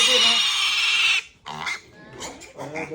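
Piglets from a litter of nine squealing loudly and shrilly up close in a long sustained cry, followed by shorter broken squeals and grunts.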